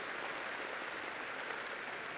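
Steady, dense applause from a university convocation audience in Calgary, welcoming a student representative; continuous clapping of even loudness with no talk over it.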